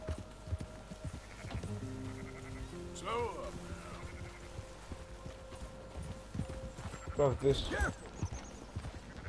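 Horses' hooves clip-clop steadily through Red Dead Redemption 2 gameplay, with a couple of rising whinnies around the middle and near the end, while someone talks casually over the top.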